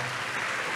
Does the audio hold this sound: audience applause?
yes